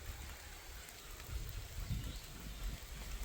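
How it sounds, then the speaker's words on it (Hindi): Light, steady rain falling outdoors where chickens are being fed, on a cool, breezy day, a soft continuous hiss with faint low rumbling, no voices. "अभी हल्की हल्की बारिश हो रही है"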